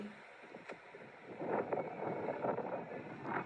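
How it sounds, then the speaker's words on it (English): Gusty wind buffets the microphone in a low, rushing roar that swells and surges, with no voices present. "The wind was so big."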